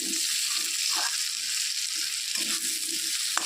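Rice and potatoes frying in a pan for a Bengali mocha ghonto, a steady close sizzling hiss with occasional soft stirring scrapes and no talking.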